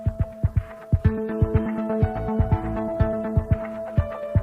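Aerospace fuel line tube being formed on a tube bending machine with a mandrel inside, producing rhythmic mechanical thumps and clanks over a steady tonal hum, close and moderately loud with no voices.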